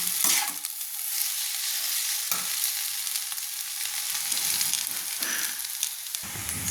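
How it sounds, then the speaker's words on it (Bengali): Boiled chowmein noodles are tossed and stirred in a hot pan: repeated scraping spatula strokes sweep over a constant bright sizzle, close and fairly loud, with no voices. "সেদ্ধ করা চাউমিনগুলো আমি তুলে দিলাম সবগুলো, দিয়ে ভালো করে আমি নেড়ে নিচ্ছি"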